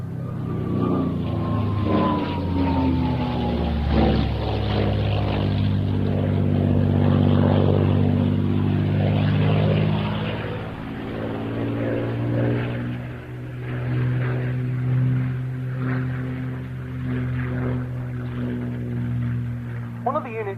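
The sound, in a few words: North American propeller aircraft flying at airshow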